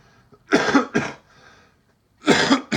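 Coughing after a hit from a Yocan Evolve Plus vaporizer: a close cough burst, a second cough, a faint breath, then another harsh cough, loud and alone with no talking.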